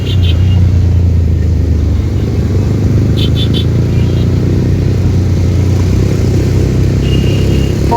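Heavy traffic of many motorbikes and cars crowding through Dankuni toll plaza on 15 August, a loud continuous engine rumble with brief high horn-like tones, no speech.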